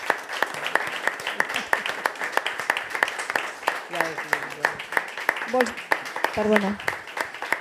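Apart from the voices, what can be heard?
audience applause at theatre event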